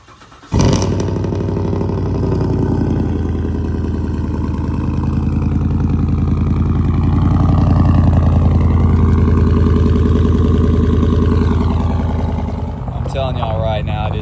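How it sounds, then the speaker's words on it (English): A truck engine cold-starts with a sharp catch and then settles into a loud, steady idle that rumbles on for several seconds before a brief change near the end. "A little cold start action for y'all this morning."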